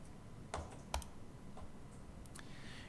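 Computer keyboard keys pressed while working in After Effects: two or three quiet, close clicks spaced apart, with a few fainter taps after them in an otherwise quiet room.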